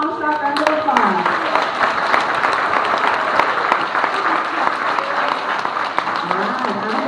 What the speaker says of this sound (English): Let's give them a Comstock round of applause.